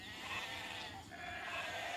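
Sheep bleating in Age of Empires II Definitive Edition, a couple of short, close bleats over a steady in-game ambience with no talking.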